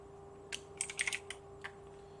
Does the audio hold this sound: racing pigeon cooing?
no